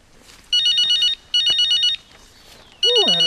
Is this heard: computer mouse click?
no